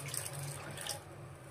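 Water poured into a pan for sugar syrup, a brief close splashing stream running steadily without pause.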